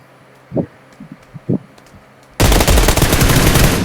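A few faint thumps, then a sudden loud burst of rapid, continuous automatic gunfire in PUBG Lite filling the rest of the clip.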